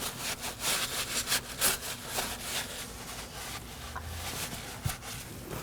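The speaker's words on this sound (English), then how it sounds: "and wipe it down with a clean rag." A clean rag wipes down the brake area on a 2013-2019 Nissan Sentra after cleaning, giving quiet, close, rhythmic rubbing strokes, quicker at first and then slower, with no talking.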